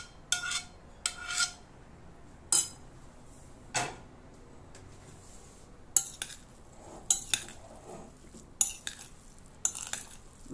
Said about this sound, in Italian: Mescolo tutto bene